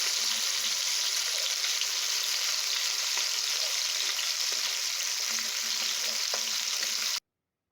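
Fish sizzling and frying in a pan, a steady broadband crackle throughout at close range with a few small clinks of a utensil, no talking.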